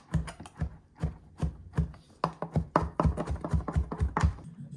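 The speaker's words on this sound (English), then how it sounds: "I'm just chopping up this ham to throw into my quiche." A knife chops ham for a quiche on a cutting board, a quick, close, uneven run of sharp taps and thuds with brief pauses between bursts.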